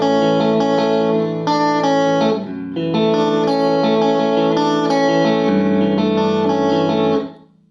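Electric guitar chords played through a Roland JC-40 amp on the neck and middle pickups, with a clean, shimmering chorus-like tone. The chords ring out strongly and steadily, change a few times, then fade at the end with no voices.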